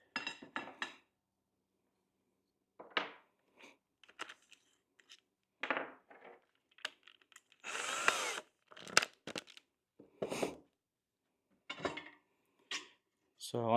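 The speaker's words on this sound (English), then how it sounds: "Drill a couple holes." Power drill boring holes in extruded aluminum for a wood-and-aluminum camp kitchen box, heard in several short bursts of whining spin separated by pauses, with clinks and handling noises of tools and metal in between.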